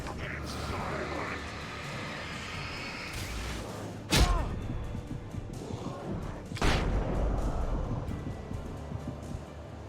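Two flashbang grenades go off in the Alan Wake video game, each a sudden sharp broadband bang with a short ringing tail, a few seconds apart, over a constant low game ambience with no talking.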